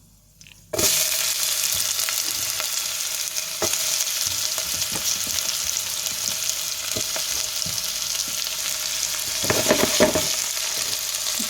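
Curry leaves and other ingredients sizzle steadily in hot oil for a sardine fish curry, a loud continuous crackle starting abruptly after a brief quiet moment, with occasional stirring clatter near the end.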